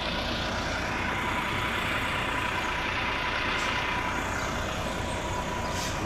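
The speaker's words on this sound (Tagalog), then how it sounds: "Ito yung maingay. Ito yung yung truck." A noisy water delivery truck sits on a street with its engine running, a loud, constant rumble and rattle throughout, with a couple of faint hissing bursts near the end.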